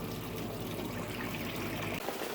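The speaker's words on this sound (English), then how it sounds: "Okay guys, we got a little thunder shower coming through." Light rain from a passing thunder shower falls outdoors as a steady, dense patter and hiss, close and even throughout.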